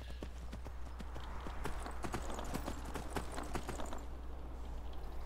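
Rhythmic clip-clop of horse hooves trotting at a steady pace in the video game Skyrim, crisp and close, over a low constant hum.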